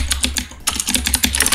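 Quick typing on a computer keyboard, a close, irregular run of sharp key clicks with a brief pause partway through, heard alone without any talking.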